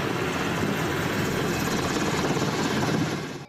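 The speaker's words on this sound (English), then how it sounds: "The B-2 Seahawk helicopters even joined in on the action with difficult practice landings while the ship" A Seahawk helicopter flies close by a warship at sea, its rotor and turbine roar loud and steady with a fast chopping pulse before cutting off abruptly at the end.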